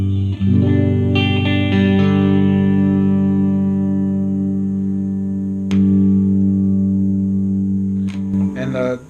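Clean electric guitar played through a Fender Hot Rod Deville 40-watt 2x12 combo amp with its reverb on, sustained chords ringing with a reverb tail, a fresh strum partway through and a few light picks near the end.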